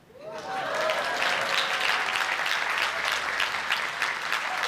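Audience applause fills a conference hall, rising quickly and holding as a steady, dense wash of clapping from many hands with a faint voice briefly audible at the start.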